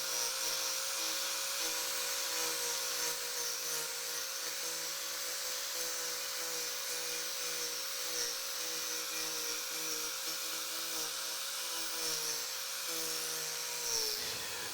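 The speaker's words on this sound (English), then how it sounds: "we'll start with this Turbo Plane to remove a lot of this material" ArborTech Turbo Plane power carver shaping a wooden chair seat, giving a continuous high-pitched whirring whine with steady tonal hum, loud and close, with slight shifts in pitch as it cuts.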